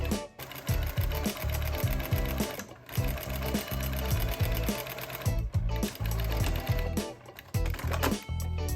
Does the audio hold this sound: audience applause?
no